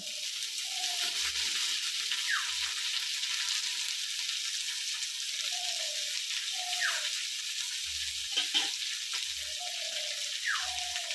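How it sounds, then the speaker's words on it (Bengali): Chopped cabbage sizzles steadily in a hot wok for veg chowmein, a constant bright frying hiss with occasional soft clinks and scrapes of the stirring utensil. "বাঁধাকপি কুচোটা দিয়ে দিচ্ছি"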